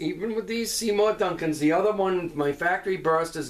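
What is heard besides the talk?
No distinct noise like a dog, phone or traffic.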